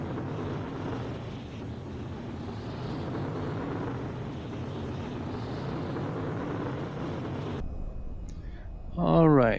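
Steady jet engine roar from a T-55 Tyro trainer jet in the flight game VTOL VR, a broad continuous rumble that holds fairly even as throttle is applied, then cuts sharply to near quiet with a brief voice at the end.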